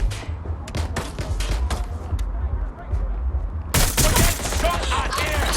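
Gunfire in the video game Watch Dogs Legion: sharp single shots crack out first, then a dense loud burst of rapid automatic fire takes over, with shouted voices mixed in.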